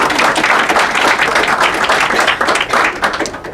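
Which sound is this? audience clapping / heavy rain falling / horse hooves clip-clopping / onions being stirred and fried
audience clapping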